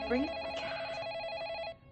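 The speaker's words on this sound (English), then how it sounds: "Can you answer the phone that's ringing?" An electronic telephone rings in a scene from the 2016 Ghostbusters movie, steady repeating tones filling the clip under a faint background voice before cutting off near the end.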